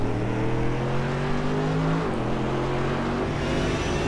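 GT3 race cars lapping Silverstone in a sim racing game, a steady loud engine drone with harmonic whine that shifts gear midway and keeps pulling, close and continuous with no talk.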